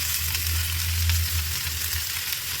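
Onion frying in hot oil as the base for a rohu fish curry with cauliflower and potato, a steady close sizzle over a low continuous hum, with no talking.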